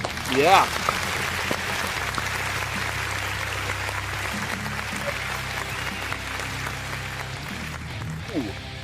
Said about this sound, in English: give yourselves a round of applause for sticking around with both of us for a little bit